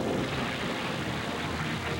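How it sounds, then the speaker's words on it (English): A Coast Guard helicopter arrives over the sea at a rescue scene, its engine and rotor making a steady, broad rushing roar at moderate distance, with no talk. "A Coast Guard helicopter arrives on scene"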